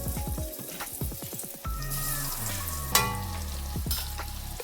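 Baby potatoes dropped into hot oil, setting off a bright, steady sizzle and crackle with a few sharp clinks of a utensil against the pan, close up and with no talking.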